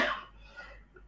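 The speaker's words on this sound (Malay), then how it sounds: "sorry, saya batuk sekarang." A single person's short, sharp cough bursts out near the mic and fades quickly, with faint breathy traces after it.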